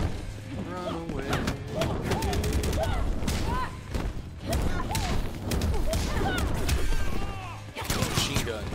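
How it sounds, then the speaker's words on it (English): Rapid bursts of machine gun fire and heavy impact thuds from a Mortal Kombat X fighting game match at a tournament, loud and sustained with brief gaps, mixed with game effects and commentator talk. "Machine guns."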